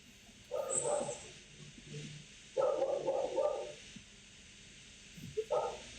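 Dog barks in three separate bursts, a short cluster of yaps near the start, a longer run in the middle and another at the end, with quiet gaps between them and faint background noise.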